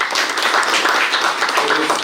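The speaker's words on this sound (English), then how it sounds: "I think they all deserve another round of applause" An audience applauds the tournament players, a dense, steady wash of many hands clapping at moderate distance, continuous throughout.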